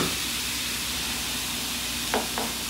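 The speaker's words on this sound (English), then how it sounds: "Listen to the sizzle." Fresh bacon and onion frying in a pan give a steady, dense sizzle that runs the whole time. Two brief clinks or stirs sound near the end, and no one speaks.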